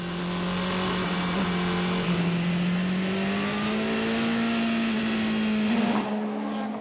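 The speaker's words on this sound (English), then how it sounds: "Perfectly placed, Timo Bernhardt this time up the Kemmel straight, slipstreams by his teammate Neil Jani in the number one car, up into third place" A Porsche endurance prototype race car at Spa-Francorchamps, with its high engine note rising steadily as it screams up the Kemmel straight in a slipstream pass, loud and close before cutting off abruptly near the end.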